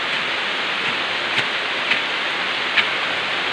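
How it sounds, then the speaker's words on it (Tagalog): Heavy rain in the mountains, a dense steady hiss filling the air, with a few brief sharper spatters standing out over the constant downpour. "Lakas po ng ulan mga Cardingeros, sobrang lakas."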